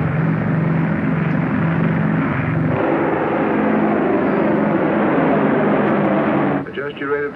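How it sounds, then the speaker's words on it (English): Aircraft engine drone on landing approach in a 1950 film, a steady loud broadband roar that holds throughout and shifts in tone near the end, with a radio controller's voice talking over it. "Approaching end of runway."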